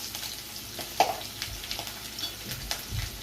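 Chili, curry leaves and asafoetida hit hot oil in a pan with cooked dal, giving a faint, steady sizzle with soft crackles and light stirring.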